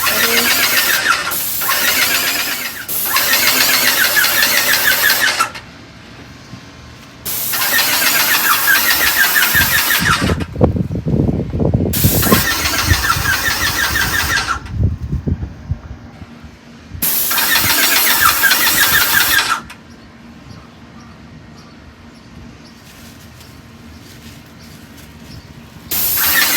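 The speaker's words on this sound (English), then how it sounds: "the Maxpray 3-cart airless paint sprayer" A Maxpray three-cart airless paint sprayer sprays in loud bursts of harsh, broadband hissing lasting several seconds each, separated by quieter gaps, with a rattling pump or motor sound in the middle.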